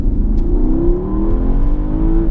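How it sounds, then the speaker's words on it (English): A Porsche Panamera Turbo with an eight-speed twin-clutch gearbox accelerates hard, its loud, close engine note climbing steadily in pitch through a sustained run without a break. "this is a Porsche, and this is a turbo, and this is mated to their marvelous twin clutch gearbox"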